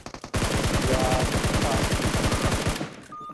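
Rapid automatic gunfire from PUBG Mobile, a loud sustained burst of closely spaced shots lasting about two and a half seconds, then a short tail.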